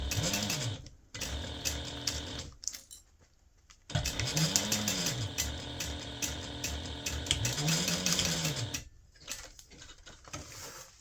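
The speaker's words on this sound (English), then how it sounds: "we're going to sew that corner using a 5/8 inch seam allowance" Sewing machine stitching the corner of a fabric gift bag with a 5/8 inch seam, running in three long whirring bursts separated by brief pauses, close and steady with no talking.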